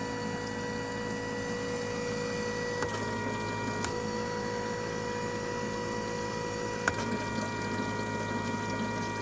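Bosch 160lb fuel injectors spray on a flow bench during a 3-bar, 43.5 psi test, giving a steady close hiss and hum with a few sharp clicks as the test starts and stops.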